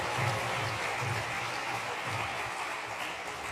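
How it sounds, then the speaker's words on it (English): An audience at a Radhastami gathering applauds festival volunteers, a steady wash of clapping hands heard from a moderate distance, fairly faint and continuous throughout with no voices over it. "Can we make a big round of applause for all these devotees?"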